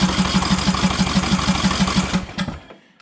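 A Briggs engine on a lawn tractor cranking on full choke, a steady rapid chugging of the starter that runs for about two seconds and then stops abruptly, leaving a few fading clicks.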